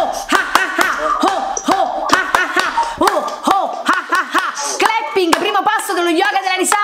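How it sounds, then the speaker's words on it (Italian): Hands clapping during a laughter yoga session, rapid bursts of claps mixed with rhythmic laughing voices, close and lively, with chanting vocal sounds over the clapping. "un applauso con risata, un clapping"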